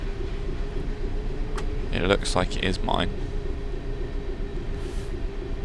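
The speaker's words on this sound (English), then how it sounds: "I'm glad we have a class 700 in Train Sim World." Steady low rumble of a Class 700 train running in Train Sim World, with a person speaking briefly over the constant drone.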